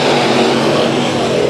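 Race cars at Bakersfield Speedway roar past in a dense, steady wash of engine noise during a heat race, loud and continuous with no pauses.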